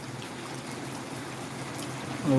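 Heavy rain falls over a village as a steady, dense wash of noise, close and continuous, swelling slightly near the end.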